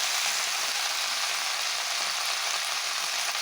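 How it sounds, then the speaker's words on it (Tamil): Chopped mint, coriander and curry leaves sizzle as they are sautéed together in a pan for chutney, giving an even, continuous hiss with no pauses and no talking. "அந்த புதினா, கொத்தமல்லி மற்றும் கருவேப்பிலையோடைய அந்த மொத்த கலவையும் வந்து நம்ம போட்டு சேர்த்து வதக்கி எடுக்க போகிறோம்"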